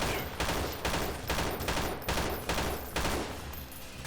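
Rapid submachine gun fire in the game S6 Freeman Guerrilla Warfare, loud sustained bursts of automatic shots that keep rattling with only brief breaks, no talking over it.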